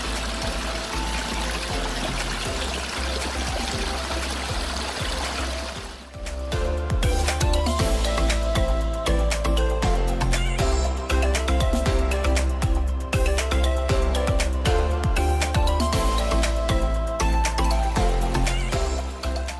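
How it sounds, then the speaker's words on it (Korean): A small stream trickling at Gaehwasan near the city, steady and fairly loud running water that grows fuller and more textured partway through. "잠시 물소리 한번 들어보이소"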